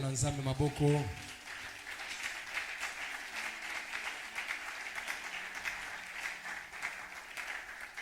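A church congregation applauds during a French-language sermon, a sustained wash of clapping that rises after a brief spoken line at the start and continues evenly throughout.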